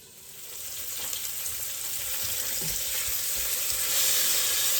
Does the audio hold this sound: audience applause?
no